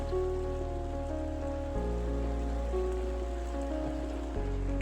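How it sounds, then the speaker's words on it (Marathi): Heavy rain falls steadily in the mountains, a dense continuous hiss on surfaces with a constant low hum underneath, no voices. "आडझोड पाऊस चालू आहे."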